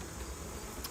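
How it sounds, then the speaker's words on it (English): Honey bees buzz faintly and steadily as they are shaken from a hive, a low continuous insect drone with no voices. "I'm going to have to shake off these bees, which will make them very unhappy"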